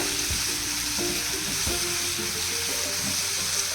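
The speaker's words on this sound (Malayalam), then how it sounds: "തക്കാളി ഇടുക. ഇട്ട് നല്ലോണം ഇളക്കുക." Tomatoes frying in a pan for chana masala, a constant sizzle with scraping stirring knocks from a utensil at intervals, close and clear.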